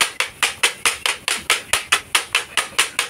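Rice for tinagtag, a Filipino rice snack, is pounded in a fast, regular rhythm of about four sharp, loud blows per second, close and with no talk.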